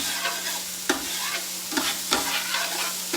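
Onions sizzle steadily in a frying pan, a constant hiss broken every second or so by the scrape and clatter of stirring, close and alone with no voices.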